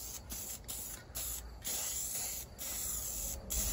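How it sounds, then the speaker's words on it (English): Rust-Oleum clear coat aerosol can hissing in repeated short and longer bursts onto a Bronco's paint job, close and steady with brief pauses between sprays. "More Rust-Oleum clear to try and salvage what we can out of this paint job."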